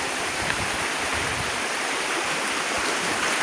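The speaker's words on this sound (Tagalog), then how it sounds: "Ayan, sobrang lakas ng agos." A fast, strong river current rushes steadily, a dense and loud wash of water with no break and no voices.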